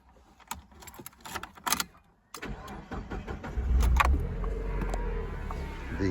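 A car engine cranks and starts after some clicks, key jangling and handling noises, then settles into a steady, close idle that runs to the end without talk.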